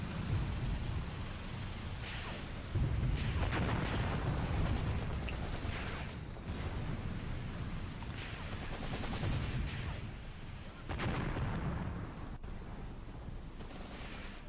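Heavy artillery booms and bursts of gunfire rumble continuously in the war game Graviteam Tactics, a dense, loud barrage of battle sounds with no clear talking.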